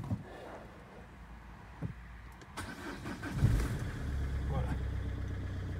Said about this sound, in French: Alors je démarre la voiture.